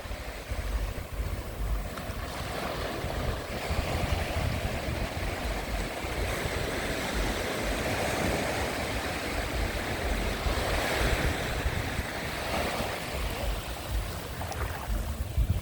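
Steady roar of sea waves washing onto Chao Lao Beach in the evening, continuous and fairly loud, with surf rising and falling and some wind, no voices.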